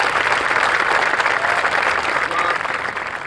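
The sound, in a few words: audience applause at White House event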